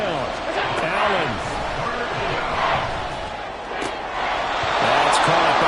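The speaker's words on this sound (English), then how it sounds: "The Arrowhead crowd in full roar." Stadium crowd roaring at Arrowhead in the Madden football video game, a steady broad wash of noise under continuous play-by-play commentary.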